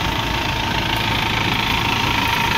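A Massey Ferguson 2635 4x4 tractor engine idling close by, a low continuous rumble with a rhythmic knock and no talking over it.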